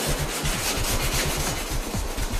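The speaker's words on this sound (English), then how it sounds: "So right now, just doing some minor scraping" Minor scraping and sanding of car paint ahead of a touch-up pen job, a close, steady, rhythmic rasping rub that repeats without pause throughout.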